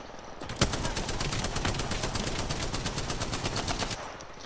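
Rapid automatic gunfire in the video game Apex Legends, a sharp opening shot then a sustained, evenly spaced burst of rounds for several seconds, fairly quiet and with no talk over it.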